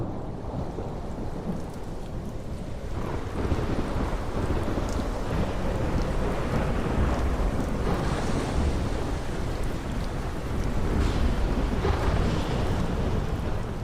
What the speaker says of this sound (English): The storm is terrible.